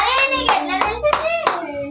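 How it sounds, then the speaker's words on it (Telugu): A family at a child's birthday gift-opening claps together in a short burst of several quick, overlapping hand claps, close and lively, with a voice faintly mixed in. "లిక్కీ కరెక్ట్ చెప్పిండు, లిక్కీకి క్లాప్స్."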